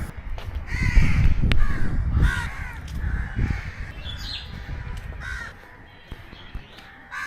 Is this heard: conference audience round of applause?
no